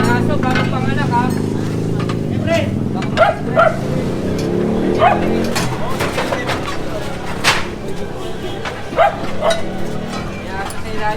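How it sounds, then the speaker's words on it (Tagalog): A mother dog with newborn puppies, lying beneath a house during a street clearing operation, gives several short yips, whimpers and barks at moderate distance, intermittently heard beneath steady conversation and outdoor street noise. "May aso sa ilalim ha, bagong panganak ha."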